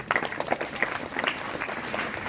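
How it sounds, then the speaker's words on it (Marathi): A classroom group claps together for two students at an English school, a brief burst of dense, steady applause lasting a couple of seconds with no talking over it. "टाळ्या वाजा है दोघींसाठी"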